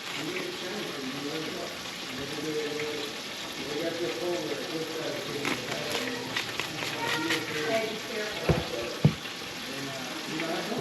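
Onion fries in a pan with a steady close sizzle and some stirring clatter, while someone talks over it and a couple of sharp knocks land near the end.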